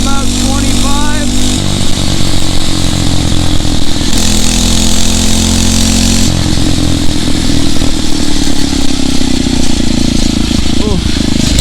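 A Phatmoto Rover 79cc motorized bicycle engine held at full throttle, a loud, raspy two-stroke-style buzz droning continuously with rattling clatter and wind rush, rising slightly in pitch partway through.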